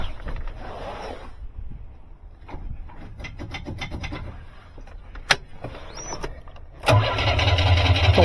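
A rare Iron Duke engine in an Astro van with a 5-speed cranks fast without catching, a continuous grinding whir up close, then a brief sharp click and a louder burst near the end.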